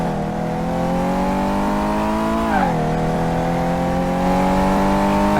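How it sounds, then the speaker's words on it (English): Simulated Chevrolet Camaro or Ford Mustang engine in Car Mechanic Simulator held at wide-open throttle, a loud steady multi-harmonic drone with a brief pitch dip midway as it shifts, then climbing again; no talk. "I can't go past like half throttle. There we go, now we're wide open."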